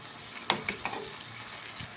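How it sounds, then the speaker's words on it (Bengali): A spatula stirs tender young ash gourd with turmeric powder in a pan for a shrimp curry, making a few close scraping knocks over a soft, wet sizzle. "এটা দিয়ে ভালো করে মিশিয়ে নেব।"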